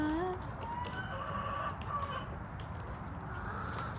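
Chickens cluck softly nearby in short clucks over a low, steady background rumble.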